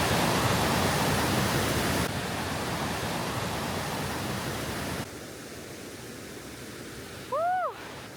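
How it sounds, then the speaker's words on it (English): Constant roaring rush of a giant waterfall among pine trees and mountains in Kazakhstan, broad and steady, fading somewhat partway through, with a brief bird chirp near the end. "behind us is a giant waterfall"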